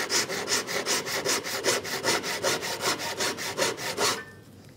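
A handsaw cuts through wood in a mitre box with a steady run of about twenty rhythmic back-and-forth strokes, close and clear, then stops.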